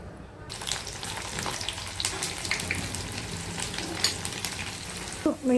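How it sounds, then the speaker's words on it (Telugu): Spices sputter and crackle in hot oil for amla pickle tempering, a dense, continuous near sizzle with scattered pops, ending in a couple of louder clanks or bumps; no talk. "ఇప్పుడు ఇదే ఆయిల్లోకి నేను ఇప్పుడు దీన్ని తాలింపు చేసి చూపిస్తాను"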